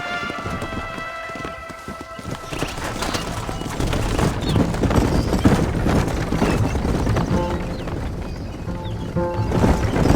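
Hooves clip-clop at a steady run as horses are ridden in the Western video game Red Dead Redemption, the rhythmic galloping continuous and prominent under a swell of background music.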